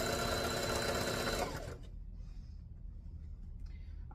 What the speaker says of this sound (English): Almost to the end of this hem, and then I'll hem up the other side off screen.